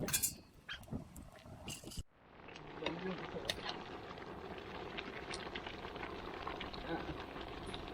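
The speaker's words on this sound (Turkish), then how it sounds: "Yaklaşık bir saattir kabağı bu şekilde kaynıyor." A steady bubbling simmer of pumpkin boiling in a pot on the stove, continuous and fairly soft, with a brief clatter at the start.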